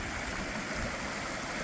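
A freezing river in the Peak District on a cold April day, its water rushing in a steady, broadband flow that is close and continuous, with no voices over it.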